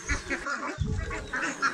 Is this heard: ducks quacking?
yes